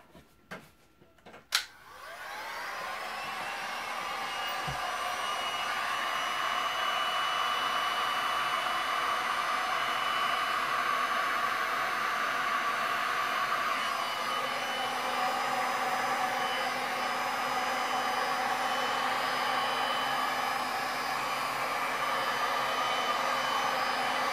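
A heat tool blows hot air over a resin pour of a black sand beach scene, a steady close broadband roar that starts after a couple of sharp clicks and holds at an even level to the end.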